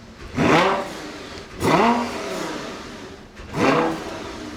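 Lamborghini engine revs hard three times in a row, each a loud rising-then-falling vroom with a short idle between bursts, close by and alone with no talk.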